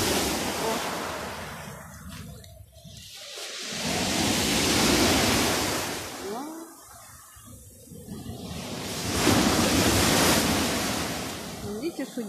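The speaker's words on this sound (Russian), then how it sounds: "И сегодня хоть не такой шторм, а вчера был сильный." Stormy sea surf crashes and rolls in broad, loud surges with gusting wind noise, swelling and fading roughly every few seconds, close by with no voices.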